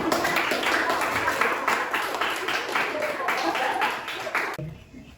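A burst of lively clapping from a group of schoolchildren in a classroom, steady and close, that stops abruptly near the end.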